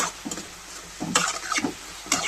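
Chana dal sizzles in hot oil while a spoon stirs, with bursts of scraping and crackle every half second or so.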